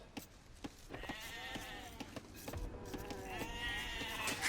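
Sheep in a strategy video game bleat several times in a row, wavering calls standing out clearly over a quiet background.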